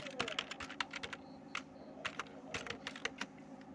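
Rapid typing on a computer keyboard during data entry of names and addresses, a close run of crisp irregular key clicks with short pauses over low background hum, no voices.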